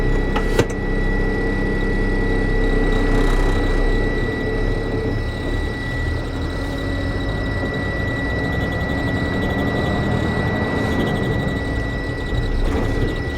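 An Iveco truck with a manual six-speed gearbox pulls away in first gear, its engine holding a steady, loud, droning rumble with a constant whine and no one speaking.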